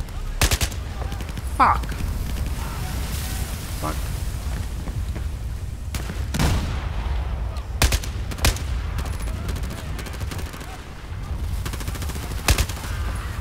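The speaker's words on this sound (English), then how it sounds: "Fire your weapon, Marine." Gunfire in the Battlefield 4 video game: repeated sharp shots and bursts ring out over a steady rumbling battlefield din, with a few louder cracks standing out and a voice briefly exclaiming.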